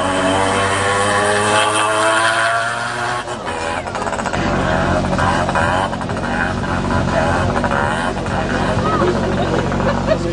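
A stunt motorcycle engine held against its rev limiter, giving a continuous, loud buzzing drone with rapid stuttering cuts, while people talk over it throughout.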